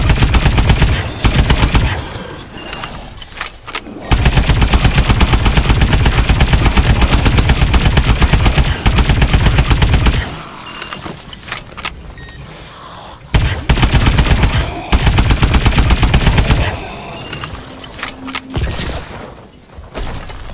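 Sustained automatic gunfire in Call of Duty Advanced Warfare Zombies, long rapid machine-gun bursts broken by short pauses for reloading, loud and close throughout with no talking.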